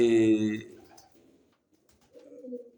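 Pigeons in a loft give a soft cooing call at the start, followed by quieter low murmurs and a faint second coo near the end; a person speaks nearby.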